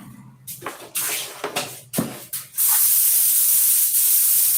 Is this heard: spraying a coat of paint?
yes